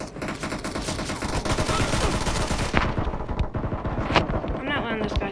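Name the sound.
gunfire in PUBG Mobile video game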